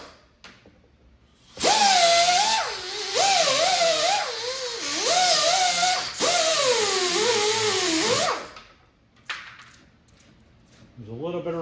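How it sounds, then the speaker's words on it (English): A 3-inch cutoff wheel screams loud and close as it slices through old screws and nails on an arcade cabinet, a harsh whine with rising and falling pitch as it bites the metal, then stops, followed by brief handling noises. "I'm gonna take my 3-inch cutoff wheel and we're gonna cut off these screws and old"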